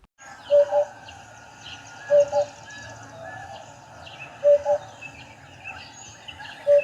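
A Eurasian hoopoe sings its soft, hollow 'oop-oop' call, repeated four times at steady intervals of about two seconds, clear over a faint background of other birds.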